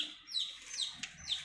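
Faint, high-pitched chirps from young chicks, three thin peeps spaced across a quiet background.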